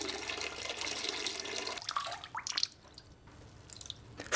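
A child urinating into a toilet, heard as a steady close trickle of liquid splashing into water that breaks into sporadic drips and splashes toward the end.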